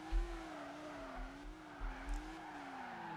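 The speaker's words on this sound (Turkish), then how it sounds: "Bir de bakalım drift'te nasılmış." A car drifting in the driving game Car Simulator 2, with a steady tire squeal that wavers in pitch over a low engine drone. The car is moderately loud and close, with brief low thumps and no talking.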